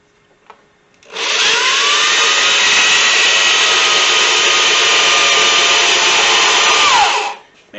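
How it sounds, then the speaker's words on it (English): A power drill bores a hole through the workpiece for a booster build, running as one steady, loud whine for about six seconds before winding down, with no talk over it. "So the drill bit's not coming out either side, which it is not."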